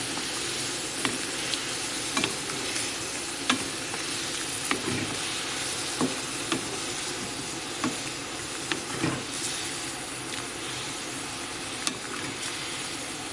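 Chicken, pork and vegetables stir-frying in a hot pan give a steady, close sizzle and hiss, with scattered soft scrapes and clinks from stirring, and no voices.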